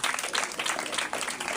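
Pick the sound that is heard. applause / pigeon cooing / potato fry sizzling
applause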